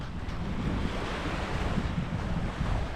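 Waves wash steadily onto Pasir Bogak beach on Pangkor Island, Malaysia, a continuous broadband surf roar mixed with wind buffeting the microphone, no voices.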